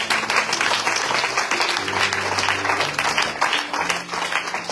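A church congregation applauds to acclaim the Lord, with dense, steady clapping filling the whole stretch and sustained low tones, likely music or voices, running beneath it.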